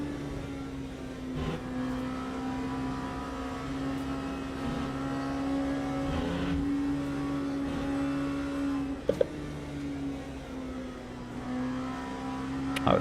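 A race car in the Le Mans Ultimate sim holds a steady engine drone with small pitch shifts as it brakes and turns, with a couple of brief sharp clicks partway through.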